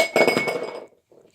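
An empty drinking glass of water tipped over and rolling under a chair, giving a bright ringing clink with a short rattle, then a soft second knock moments later; it does not shatter.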